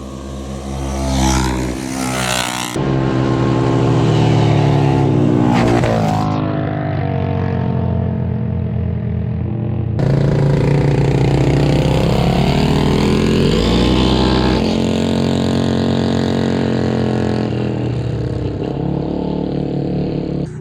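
CFMOTO ZForce 950 and CFORCE off-road vehicles accelerate hard in dirt, engines roaring loud and close with rising revs and gear changes, one engine's pitch climbing and falling over a steady mechanical drone.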